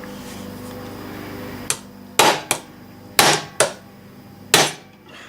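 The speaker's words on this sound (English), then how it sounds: "I'm going to use a ball peen hammer." Ball peen hammer striking a cap held against a Mini 14 rifle front sight to drive it off the barrel: six loud, sharp metallic taps spaced irregularly, each ringing briefly, with no talking.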